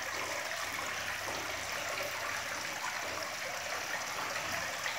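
Water from a small, clean house well spills over a little garden cascade, giving a steady, soft trickling and splashing that carries on evenly without pause.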